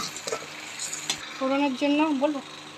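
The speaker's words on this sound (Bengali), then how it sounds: "পটলটাও ভেজে নেওয়া হবে" Pointed gourd fries in hot oil with a quiet, continuous sizzle and occasional stirring clicks near the start, while a brief tonal hum rises over it midway.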